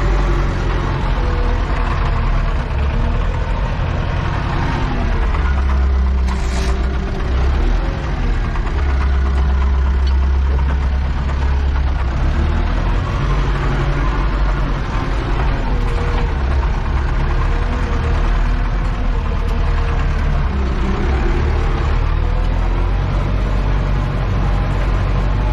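A tractor tilling a fallow field drives back and forth, its engine a loud, steady, low diesel drone with deep rumble, continuous and close the whole time.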